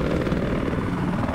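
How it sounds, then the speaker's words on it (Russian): An enemy helicopter flies in the Battlefield 4 video game, its steady rotor and engine drone filling the short stretch at an even, loud level with no voices. "Вижу, вражескую вертушку!"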